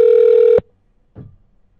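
A single long telephone ring tone on a call, loud and close, cutting off abruptly, followed by a short faint sound and then quiet.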